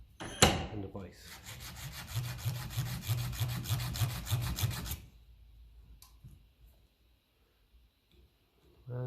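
A hand file rasping rhythmically across a metal Ferguson 20 tractor Lucas starter part clamped in a vise, about a dozen quick strokes close up, then stopping with faint handling noises.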